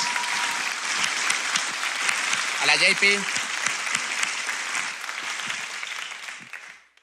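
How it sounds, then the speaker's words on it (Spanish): A live talk show studio audience applauds loudly and steadily, with a brief voice calling out midway, before the clapping fades away at the end. "Pido un fuerte aplauso para ellos"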